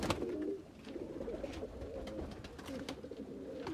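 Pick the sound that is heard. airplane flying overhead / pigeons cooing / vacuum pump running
pigeons cooing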